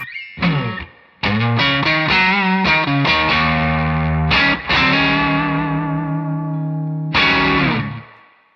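A Telecaster on its neck pickup rings through an amp with all controls near full, loud sustained chords with heavy distortion, struck in several bursts and left to decay between them.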